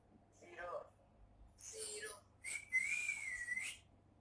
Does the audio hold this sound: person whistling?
yes